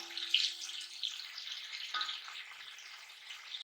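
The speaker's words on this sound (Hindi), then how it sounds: "प्याज को फ्राई करेंगे अच्छी तरह।" Sliced onions frying in hot oil for a pulao masala, giving a soft, continuous sizzle at low-moderate volume, close by, with a faint clink partway through and no voices.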